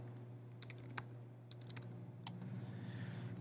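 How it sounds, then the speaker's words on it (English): Keys clatter on a computer keyboard as a word is typed, a quick burst of close, sharp clicks in irregular rhythm, followed by a softer hissing background. "let's type in peanuts for its text property"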